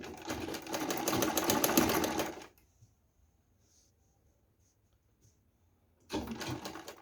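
A sewing machine stitches knitted baby pant fabric made on a knitting machine, running in a steady close burst of a few seconds, pausing in near silence, then starting again briefly.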